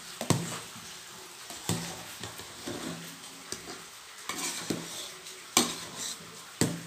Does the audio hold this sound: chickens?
no